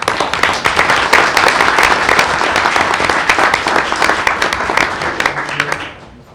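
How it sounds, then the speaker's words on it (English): Sustained applause from a school board meeting audience, dense steady clapping lasting about six seconds before fading out at the end. "Let's give them a round of applause."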